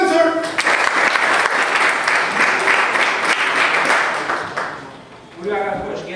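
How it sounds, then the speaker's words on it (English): An audience bursts into sustained applause, dense clapping filling several seconds before fading as a voice resumes speaking. "Let's give her a round of applause again."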